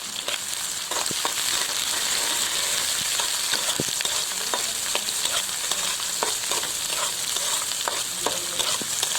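Chopped onion, green chilli and garlic fry steadily in hot oil with cumin seeds, a continuous close sizzle broken by frequent sharp crackles and spatula stirring scrapes.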